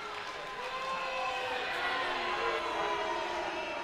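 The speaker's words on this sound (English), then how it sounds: "You can hear the crowd." A crowd roars at a men's 1650-yard freestyle swimming championship, a steady, broad wash of cheering and noise sustained throughout without breaks.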